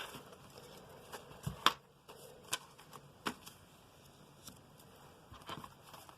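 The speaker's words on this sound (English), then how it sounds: "I'm going to take those envelopes out so you guys can see them." Paper envelopes slid out of a Michael Kors wallet make soft, close rustles and light papery taps, with one sharper crinkle partway through, in a quiet room with no talking.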